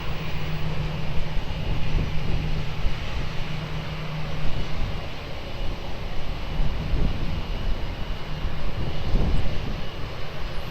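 A Ryanair jet airliner taking off on runway 20 at Lisbon Airport, a steady broad engine roar with a low rumble, heard from a distance and holding fairly even throughout, with no talking.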